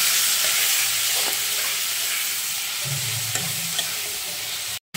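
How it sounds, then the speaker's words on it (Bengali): Tomatoes with salt and turmeric stirred in a frying pan, giving a steady close sizzle with scraping spoon strokes against the pan and a brief low rumble near the end. "এবার নাড়াচাড়ার পালা"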